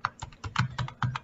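Fingers tap out a command on a computer keyboard running Kali Linux in a quick burst of about a dozen soft, close keystrokes.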